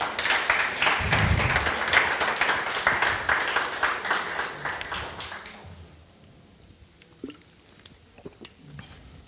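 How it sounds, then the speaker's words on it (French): A church congregation applauding during a sermon, dense and loud clapping for about five seconds that then fades out into a quiet room with a few scattered claps. "On peut applaudir le Seigneur quand même"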